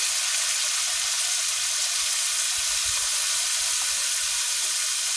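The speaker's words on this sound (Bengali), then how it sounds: "ভেজে নেব ভালো করে, লাল করে" Eggs fry in hot oil seasoned with salt and turmeric, giving a steady, dense sizzling hiss that holds evenly throughout, with faint low bumps beneath and no voices.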